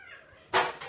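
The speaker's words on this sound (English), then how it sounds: "we have two cats that are their sisters, and just every once in a while they decide to hate each other" Two sister house cats fight, letting out a single loud, close hissing yowl that bursts in halfway through a quiet moment and then trails off.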